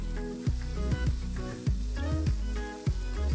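Pork chop sizzling steadily in a tilted pan as it is basted with butter, thyme and garlic, a loud close hiss broken by periodic spoon scrapes and splashes, with no talking.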